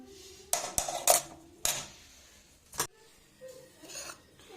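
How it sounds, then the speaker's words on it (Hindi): A knife chopping cabbage on a board in a home kitchen, a few sharp separate cuts and knocks with quiet pauses between them. "ऐसे हम गोभी कट कर लेंगे।"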